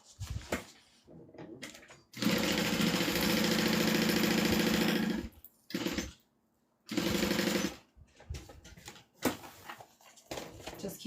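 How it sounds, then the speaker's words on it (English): A sewing machine stitches a pocket onto a bag in two runs, first a steady three-second whir, then a brief burst, with a person talking quietly in the pauses around them. "let's go ahead and sew this together"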